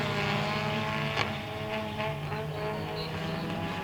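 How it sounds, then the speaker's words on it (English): A race car on a track during a night race event: a loud, sustained engine drone with rich steady harmonics that fills the whole stretch without a distinct fade, set against crowd-like background noise. "car's pretty loud coming through here"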